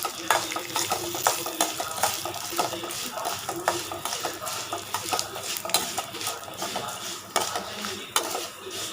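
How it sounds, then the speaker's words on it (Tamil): Dried red chillies and tamarind sautéing in a pan for sesame chutney give a low sizzle. Busy, nearby scraping and clinking of a metal spoon against the pan runs throughout in quick, uneven strokes. "அது கூடயே வந்து நம்ம புளியும் போட்டு வதக்கிக்கலாம்."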